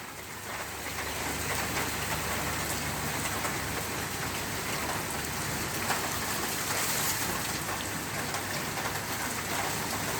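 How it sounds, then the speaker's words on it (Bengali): Rain falls steadily in Dhaka, a constant, even hiss and patter that fills the whole stretch without pause or voices. "নরসিংদীতে বৃষ্টি হচ্ছে না ঢাকায় হচ্ছে"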